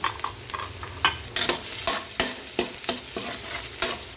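Ginger and garlic sauté in a hot pan for sinigang sa miso, with loud sizzling broken by repeated sharp scraping strokes of a spatula, nearby and without speech.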